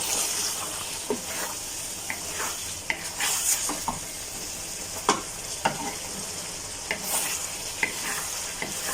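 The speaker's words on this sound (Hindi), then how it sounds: "अब इसकी जो फाइनल भुनाई है वो कर देते हैं।" Mutton karahi masala with sliced green chillies is sautéed in a pan over a constant sizzle, while a spoon scrapes and taps the pan in irregular strokes.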